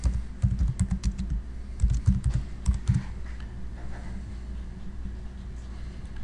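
Typing on a computer keyboard, quick clusters of close key clicks in two or three bursts, then trailing off into quiet room tone.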